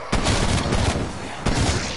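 Gunfire in Call of Duty Cold War Zombies: loud, dense automatic bursts that fill the whole moment, with a fresh volley kicking in near the end, close and unbroken with no talk.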